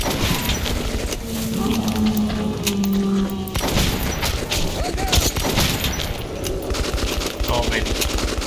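Heavy gunfire in Metro Last Light Redux comes as loud rapid automatic bursts and booming impacts with crashing debris, close and sustained throughout, with some voice-like tones mixed in.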